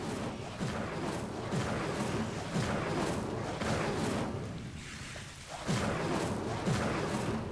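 The Incendio fire spell is cast again and again in Hogwarts Legacy, making a string of loud whooshing bursts about once a second, each with a soft booming edge.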